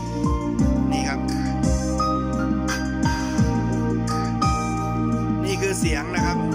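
Music plays through a Sharp CP-BK2100 mini component system speaker, a steady, sustained melodic tone with held notes and gliding pitches filling the room at moderate volume.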